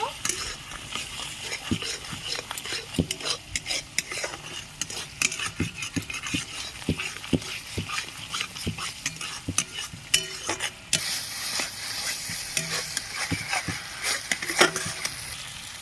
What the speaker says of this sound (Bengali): কাশ্মীরি লাল লঙ্কার গুঁড়ো দিয়ে দিচ্ছি পরিমাণ মতো নুন কষিয়ে নেব